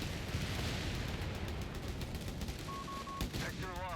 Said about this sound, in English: 50 Cal's doing the best to suppress it